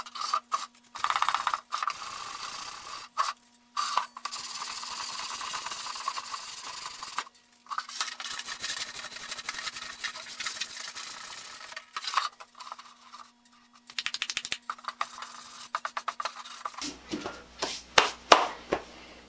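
Someone hand-sands the shroud of a 5 hp Sportfisher outboard motor before painting it, producing close, rhythmic scraping strokes broken by short pauses.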